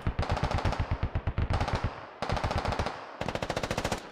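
DShK heavy machine gun firing in the video game Squad Ops, three long rapid bursts of loud, evenly spaced heavy shots with brief pauses between them.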